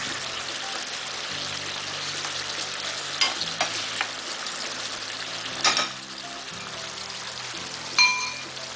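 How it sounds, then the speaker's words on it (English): Food sizzles in a pot on the stove during home meal prep, a steady crackling hiss with a few sharp clinks and metallic taps of utensils against the pot. "I just love to hear this a sizzling pot."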